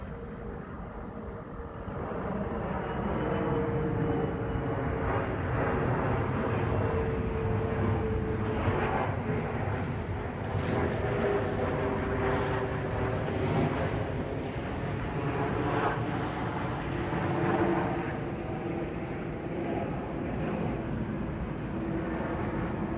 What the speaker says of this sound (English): gonna wait till this plane goes by